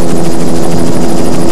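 A helicopter flies above a 1985 All Ireland Triathlon Championship race, its rotor chopping in a steady, fast, loud pulse with no other sounds.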